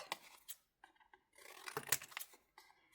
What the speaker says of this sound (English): then I want to cut this one out